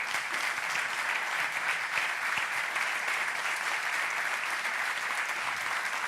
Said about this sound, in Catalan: Sisplau, un fort aplaudiment per elles dues.